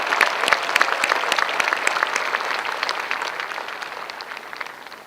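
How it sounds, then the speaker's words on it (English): Graduate school commencement audience breaking into sustained applause, a dense, loud crackle of many hands clapping that slowly tapers toward the end. "Yes, that deserves another round of applause"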